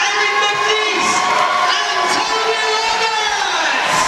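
A crowd at a national lead climbing final cheers loudly for two favourite climbers, a roaring mix of shouts and whoops, with some high children's voices, sustained at full volume throughout.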